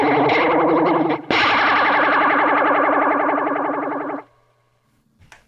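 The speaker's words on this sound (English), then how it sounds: "That is some serious flanger." Electric guitar run through a flanger pedal with distortion, a loud sweeping whooshing jet-like tone that holds for about three seconds after a brief break, then cuts off into near silence with a faint noise at the end.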